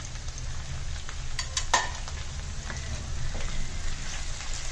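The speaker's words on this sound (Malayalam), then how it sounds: "ഒന്നുകൂടി നമുക്കിത് നല്ലവണ്ണം വഴറ്റിയെടുക്കാം" Onion, ginger, garlic and curry leaves sautéing in a pan, a steady soft sizzle with a few scrapes and clinks from stirring, close and continuous.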